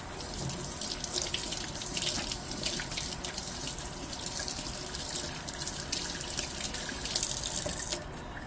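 A tap runs steadily into a sink while hands are washed with a homemade tallow shampoo bar, a continuous close splashing hiss with small shifts as the hands move under the stream.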